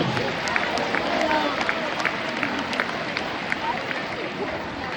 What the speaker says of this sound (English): big round of applause for our unified bowlers